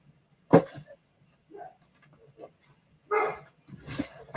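A dog barks a few scattered times, short muffled woofs with quieter whimpering sounds in between, somewhat distant in a quiet room.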